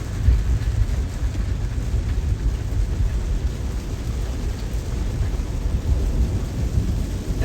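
Heavy rain and rolling thunder heard from inside a Tesla driving on Full Self-Driving Beta 10.12, a steady, dense low roar that stays loud and continuous throughout with no voices.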